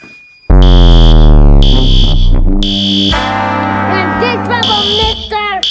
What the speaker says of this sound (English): You better quit pulling the darn gone fire alarm.